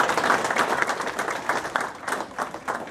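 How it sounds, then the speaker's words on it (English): A school audience gives teachers and administrators a round of applause at a breakfast of champions event, a steady wash of many hands clapping at moderate loudness, rising and dipping slightly. "Let's give your teachers and administrators a round of applause"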